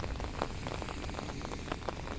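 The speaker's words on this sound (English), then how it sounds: "welcome to a wet and rainy edition" Steady rain patters on surfaces outdoors, a dense, even hiss with scattered drop ticks throughout and no talk.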